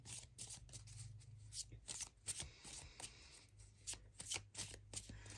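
Tarot cards being shuffled during a pick-a-card reading, a steady run of quick papery riffles and slaps repeating close by with a low hum underneath and no talk.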